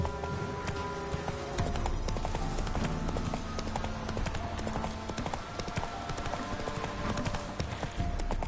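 A horse gallops in The Witcher 3, its hooves beating a fast, continuous clip-clop rhythm up close under layered game music and ambience, with a faint neigh and occasional talk.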